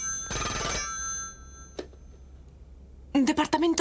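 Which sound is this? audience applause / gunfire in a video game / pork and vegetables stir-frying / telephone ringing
telephone ringing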